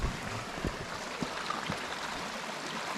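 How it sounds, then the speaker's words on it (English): A small creek flowing toward a waterfall in Victoria, a steady broadband rushing of water heard close by, with a few soft low knocks near the start. "This little creek that flows into it."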